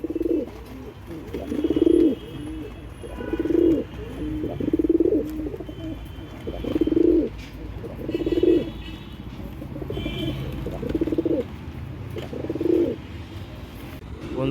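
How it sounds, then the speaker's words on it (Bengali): Andhra pigeons coo close by in a steady rhythm, with low throaty calls repeating every second or two over a quiet background. "দেখুন সুপার কোয়ালিটির পায়রা, সুপার কোয়ালিটির।"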